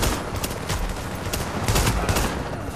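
Rapid, dense bursts of gunfire from a shotgun and other weapons in The Division overlap in a loud, continuous barrage with sharp repeated cracks throughout.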